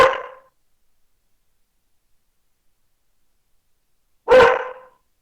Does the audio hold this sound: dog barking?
yes